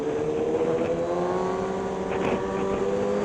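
A tricycle passes a GSXR 1000-R motorcycle on a road in Baler, its steady engine drone and passing whoosh continuous and fairly close, with no talk over it.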